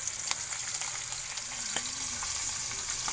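Fish frying in a pan over a wood fire outdoors, a steady close crackling sizzle with scattered sharp pops throughout, no talking.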